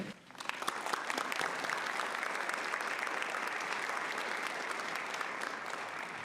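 Steady, full applause from an honors ceremony audience greeting the speaker Mary Donahue, with dense clapping that rises quickly and holds evenly throughout.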